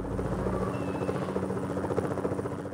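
Helicopter in Need For Speed: High Stakes on PlayStation (1999): a continuous, evenly pulsing rotor drone with steady engine whine, close and unbroken throughout.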